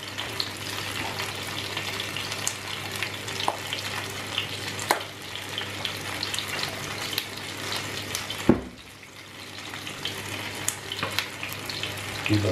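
Alheira sausage from Torre de Moncorvo sizzling and being stirred in hot olive oil in a pan, a steady close crackling fry with scraping stirs and a brief dip in the sizzle near the end.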